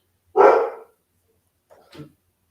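Dogs barking indoors or nearby: one loud, close bark, then after a pause a quieter, shorter second bark, with silence around them.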